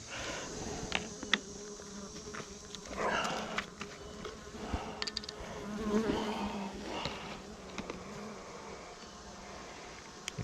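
Faint, steady buzzing of many honey bees at the hive, with scattered clicks and light knocks over the continuous drone.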